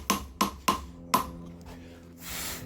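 A hammer strikes a chisel cutting numbers into a paver, four sharp ringing metallic blows in quick succession, close and clear, each with a brief decaying ping, followed by a soft scrape.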